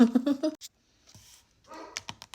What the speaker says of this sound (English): My dog started barking, so I paused it.